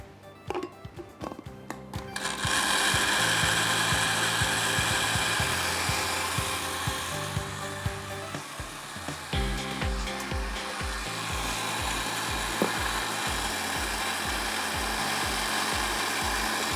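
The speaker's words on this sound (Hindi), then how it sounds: "and blend this." An electric blender whirs steadily and loudly, blending basil, mint, olive oil and lemon juice for a prawn dish. A few seconds of clattering come first, then a sustained motor drone that holds for about fourteen seconds with slight shifts in pitch.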